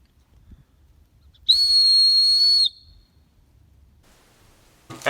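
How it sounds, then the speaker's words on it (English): A small survival whistle taken from a Bear Grylls ferro rod gives one loud, steady, shrill blast lasting just over a second, set against a quiet background. "I've got this little whistle in here. This actually came off of a Bear Grylls ferro rod"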